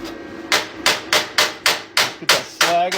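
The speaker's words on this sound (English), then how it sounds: "Get that slag off." Sharp metallic hammer strikes chipping slag off fresh stick (arc) welds, about eight evenly spaced close blows, each ringing briefly before the next.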